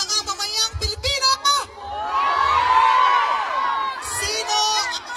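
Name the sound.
crowd of Filipinos shouting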